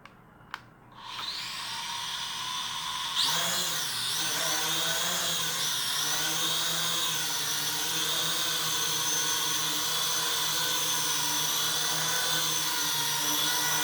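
A DM107s quadcopter drone's propellers buzz loudly and steadily, a high whining hum that rises in pitch as the motors spin up after a brief pause, then holds a sustained drone throughout.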